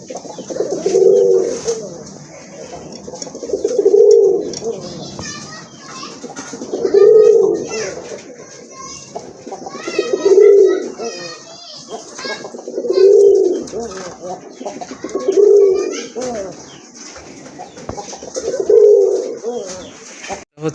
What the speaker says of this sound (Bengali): বেশ বড় সাইজেরই কবুতর আছে